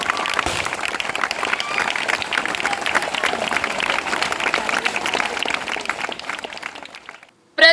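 A crowd applauds at a local political gathering in Nizamabad, with dense sustained clapping for several seconds that fades out near the end before a brief burst of noise.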